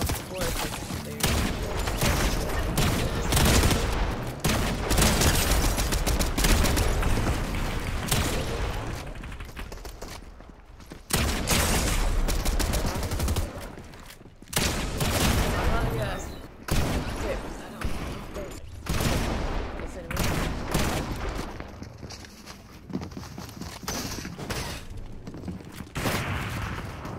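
Fortnite gunfire in a 1v1 match, with bursts of shots and blasts repeating through a loud, busy game mix, broken by a few short lulls, with a player talking over it.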